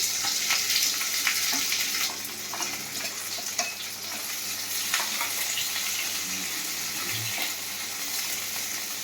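Onions fry in a pan until golden in a home kitchen. A continuous close sizzle carries on with light stirring clicks and scrapes, and it gradually fades a little toward the end.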